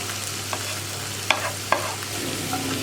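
Sliced bitter gourd and green chillies stir-fry in a pan with a soft steady sizzle, punctuated by a few sharp clinks and scrapes of a spatula against the pan, close and moderately quiet.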